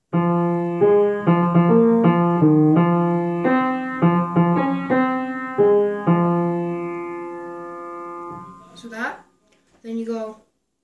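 A melody played as a bright, sustained keyboard-like tone, a rhythmic string of quick notes followed by longer held ones, close and clear, ending in a couple of sliding blips.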